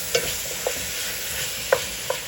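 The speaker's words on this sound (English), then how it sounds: "We just want to sweat out those mushrooms a little bit" Mushrooms sweat in a pot on the stove with a soft, steady sizzle, punctuated by a few light knocks of a spoon stirring against the pot.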